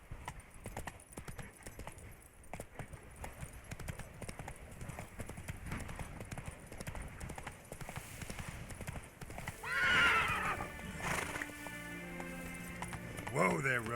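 Roach, a horse in The Witcher 3, gallops with rapid rhythmic hoofbeats, then gives two loud neighs near the end, with some voices faintly in the background.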